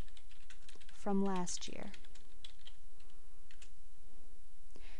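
Keys clatter lightly on a computer keyboard in an irregular stream of small clicks over a constant background hiss, with a brief spoken phrase near the start.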